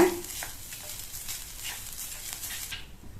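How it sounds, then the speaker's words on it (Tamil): A coconut mixture for beetroot poriyal sautés in oil, a close steady sizzle with stirring scrapes that fades out near the end. "இந்த தேங்காய் கலவையை நல்லா 1 நிமிஷத்துக்கு இந்த எண்ணெயிலேயே நல்லா வதக்கி விட்டுக்கங்க"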